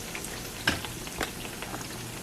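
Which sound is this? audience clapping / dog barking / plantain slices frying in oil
plantain slices frying in oil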